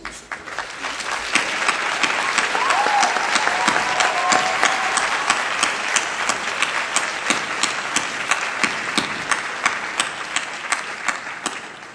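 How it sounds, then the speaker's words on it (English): Sustained applause from a large audience at a medical school graduation ceremony, dense steady clapping lasting throughout, loud and even with faint crowd murmur underneath. "I'd like to give my class an opportunity to give you all a collective round of applause for your support"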